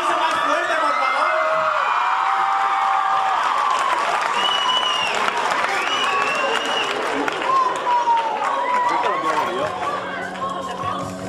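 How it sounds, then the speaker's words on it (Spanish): Audience at a Breaking Dawn fan event in Barcelona applauding and cheering steadily, dense clapping with whoops and crowd chatter throughout, loud and close. "¡Un aplauso más fuerte, por favor!"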